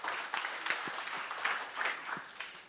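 A Thai seminar audience greets a speaker with brisk, continuous applause, many hands clapping densely and evenly throughout, close and without talk.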